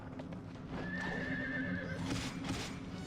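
A horse neighs loudly in the Drakengard video game, a drawn-out whinny over clip-clopping hooves and game background noise.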